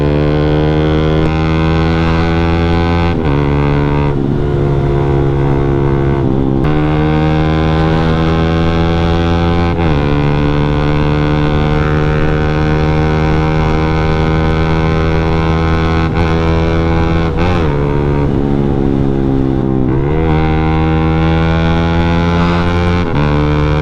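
A Yamaha Sniper 155 engine with a racing ECU revs on a dyno up to 12,000 RPM, a loud sustained buzzing whine that rises and falls in pitch through several long pulls.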